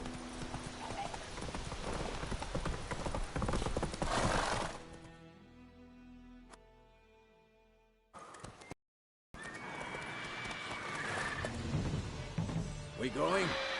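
Horse hooves gallop in a steady, close clip-clop rhythm across The Witcher 3 game scene, loud at first, then fading into a quiet stretch and a brief silence, before returning with heavy ambient noise and voices.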